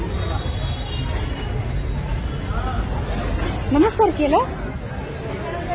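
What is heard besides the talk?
crowd hubbub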